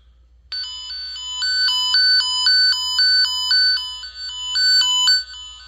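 A bright electronic tone from a Fluke Networks Pro3000 tone generator pulses in a steady on-off warble, alternating between two pitches, loud and close, with no voices.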